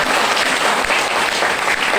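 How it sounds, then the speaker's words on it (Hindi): A crowd at an RCM motivational speech claps loudly and densely in a continuous burst of applause lasting a couple of seconds. "ताली जोरदार वाली बजा लीजिए"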